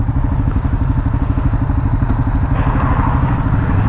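A 2022 Kawasaki KLR 650 single-cylinder motorcycle engine runs steadily up close, with a loud low rhythmic thumping pulse that holds even throughout, plus faint mechanical clatter and no talking.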